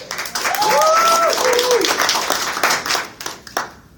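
Loud crowd applause and cheering at a poetry event fill the space, with whoops and whistles rising over the clapping before it thins out toward the end.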